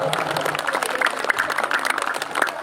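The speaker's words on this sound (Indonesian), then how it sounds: "Tepuk tangan dong." An audience at a Ramadan community iftar gathering in Tangerang claps together, a brisk patter of many hands at moderate distance with a voice faintly underneath.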